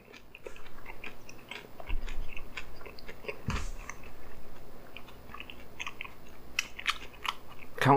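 Close, steady chewing of food with soft wet crunches and biting sounds, repeated rhythmically over several seconds with no talking.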